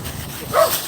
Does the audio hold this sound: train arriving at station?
no